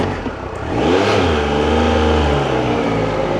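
A motorcycle rolls down a slope, its engine drone swelling and then holding steady and loud, heard close with wind rush and no talking.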